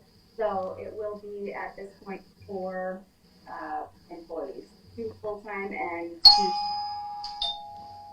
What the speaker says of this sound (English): it's my front doorbell